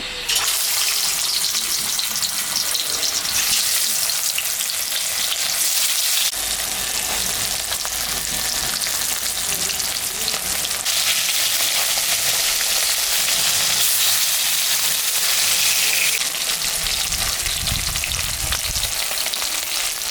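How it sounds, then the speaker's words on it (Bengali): Mrigal fish, seasoned with salt and turmeric, frying in mustard oil in a kadai: a loud, continuous close-up sizzle and crackle that shifts in intensity as the pieces are moved. "মাছটা এখন আমি ভাজবো"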